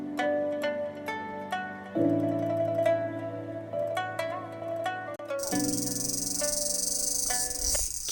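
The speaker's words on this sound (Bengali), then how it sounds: "এই যে ঝিঝি পোকাটা ডাকছে" Crickets chirp in the trees on a tea garden hill in a Khasi village, a bright steady trill that becomes clear in the latter part beneath a plucked, tonal melody that plays the whole time.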